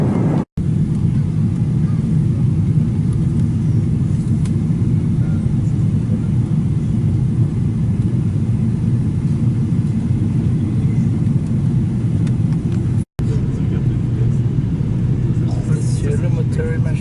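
A steady, loud airplane engine rumble fills the cabin, with low, even droning throughout and two brief dropouts; a voice talks faintly underneath.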